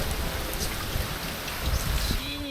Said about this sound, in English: The storms in the Maldives can last for days, if not weeks.